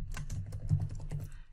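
Fingers tap a computer keyboard at a quick, even pace while searching in an Access 2019 help window, each keystroke a close, crisp click with no voices.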